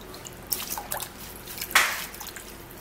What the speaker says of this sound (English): rinsing out the dust and sand from the parsley